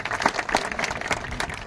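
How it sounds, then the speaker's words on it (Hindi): Audience applause for Professor K.L. Dangi at a Sindhi literary program on the banks of the Sindhu in Ladakh: steady, dense clapping from a hall crowd, moderately loud and continuous without talk. "तालियां"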